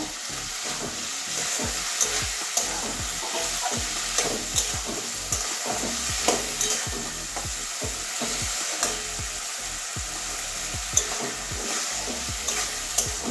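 Prawns and previously fried potatoes are stir-fried in masala in a pan for a Bengali prawn curry: a steady sizzle underlies a quick, regular run of spatula scrapes and stirs, close and alone throughout.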